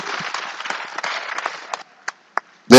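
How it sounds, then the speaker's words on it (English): Audience applause for mothers and women at a housing fair, a dense crackle of clapping lasting under two seconds, then a few scattered claps before a loud voice cuts in. "Please give a resounding round of applause for all the mothers and women"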